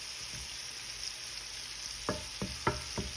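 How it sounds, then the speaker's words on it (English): Meat frying in a skillet over medium heat, a steady hiss of sizzling oil close by, joined near the end by several sharp scraping strokes of a spatula, with no talking. "So I'm gonna just fry this up"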